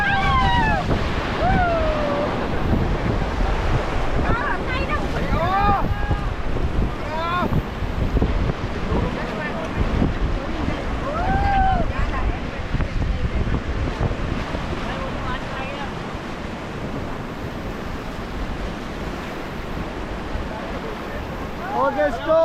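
River rapids rush loudly and continuously during a rafting trip in Rishikesh, Uttarakhand, with wind buffeting the microphone and people shouting and calling out over the roaring water.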